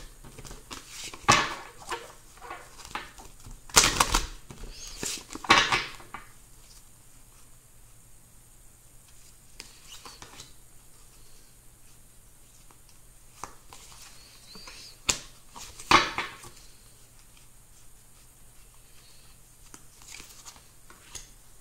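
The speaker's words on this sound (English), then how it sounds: "I'm going to be shuffling the cards and thinking of the energies for Tuesday." A deck of tarot cards is shuffled by hand, giving short, soft papery riffles in a few quick bursts separated by long stretches of near silence.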